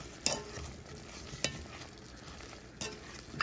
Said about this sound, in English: After this, we're going to stir it around